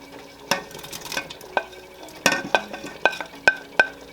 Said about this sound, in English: we're going to add this milk mixture slowly into the potatoes with the broth, stirring the entire time until it's all mixed in together